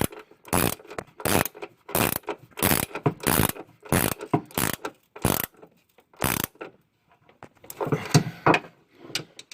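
A ratchet clicks in quick bursts while tightening the strut mount nuts on a 2010 Chrysler Town and Country van, about a dozen loud, close strokes with short pauses, then a busier rattling stretch at the end.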